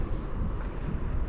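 Steady, rumbling wind buffets the microphone while fishing at night, a low continuous roar with no voices.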